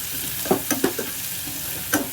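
Drumstick pieces and chopped onion frying in an oily pan for a potato and mango tamarind curry, with a steady sizzle and a few sharp clinks and scrapes of a spoon stirring.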